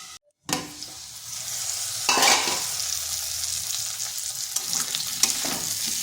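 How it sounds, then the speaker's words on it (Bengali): Spice paste made from ground tomato and other ingredients fries and is stirred in a pan, a steady close sizzle with scraping strokes of the spoon running throughout after a brief silent start. "এটাকে বেশ কিছুক্ষণ ভেজে নিয়েছি।"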